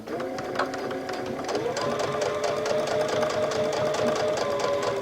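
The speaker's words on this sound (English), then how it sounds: "you want to go in and stitch along that folded edge here. So stitch all the way down." A sewing machine runs continuously, stitching along a folded fabric edge for a stretch headband, a rapid steady mechanical chatter that settles into a constant close whirring pace.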